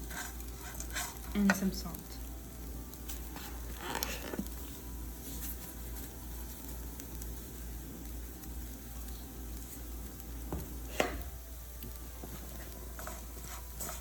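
Stuffing for stuffed bitter melon (karela) fries with fried onions in a pan over a low flame, giving a quiet, steady sizzle with occasional stirring scrapes; a voice speaks briefly.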